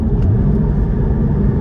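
The engine of a Porsche 718 Cayman GT4 with auto rev-matching gives a loud, steady, close rumbling drone through a gear change into third. It comes from inside the cabin and there is no talking.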